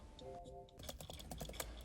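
Rapid typing on a computer keyboard during a typing game on a sushi-themed practice site, with a steady run of close, crisp key clicks after a brief tonal game sound at the start.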